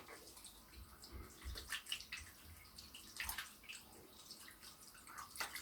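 Hands scrubbed with soap under running tap water, a quiet steady trickle with soft splashes and drips, no voices.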